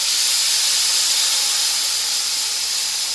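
Broth with sofrito hits a hot paella pan for seafood paella, giving a loud, steady steam hiss that holds at one level from start to finish with no break.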